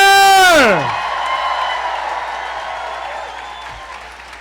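Audience applause and cheering at a livestreamed community event, a loud falling tone cutting off into steady crowd clapping and noise that fades gradually.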